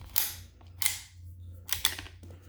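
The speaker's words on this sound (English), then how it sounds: "I was dry firing it" A GSG Firefly .22 pistol being dry fired, with several sharp, close metallic clicks of the action spaced irregularly.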